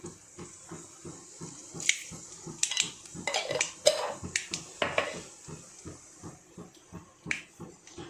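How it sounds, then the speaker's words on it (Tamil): Mustard seeds dropped into hot oil in a heated pan, popping and sputtering in rapid irregular crackles with a few sharper bursts, close up and without talking. "பேனில் எண்ணெய் ஊற்றியாச்சு, பேன் காஞ்சிருச்சு, கடுகு போட்டுக்கிறேன்."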